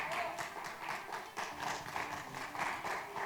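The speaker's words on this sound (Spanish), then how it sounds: "Un aplauso, por favor," Applause from a conference audience in Chile welcoming the president of the Chilean Chamber of Construction, a dense steady patter of many hands clapping for about three seconds, fairly faint and even throughout.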